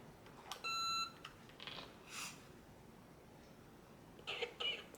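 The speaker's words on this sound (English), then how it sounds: "That's the cough sound that they make." An electronic cough from a RealCare reborn hybrid baby doll: brief synthetic coughing bursts near the start and end, with a short electronic beep early on, in a quiet room.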